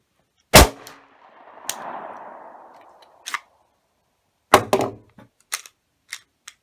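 A wooden Glock-style replica pistol fires with a sharp, loud crack followed by a decaying rattle, then several metallic clicks and clacks of the action cycling and chambering a round.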